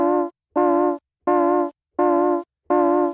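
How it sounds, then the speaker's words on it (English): A gritty, buzzy synth chord processed with a bit crusher effect plays in five evenly spaced stabs, its tone crunchy and lo-fi with harsh high-end fizz. "So that sounds like a bit crusher."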